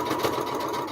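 A sewing machine runs steadily while stitching a quilt-as-you-go seam, a brief, even, close mechanical whir with no voices.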